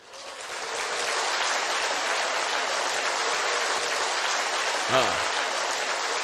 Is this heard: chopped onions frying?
no